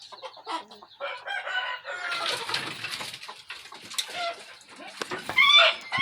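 Chickens cluck and chatter close by, with a rooster-like call rising near the end, in a busy, continuous flock sound.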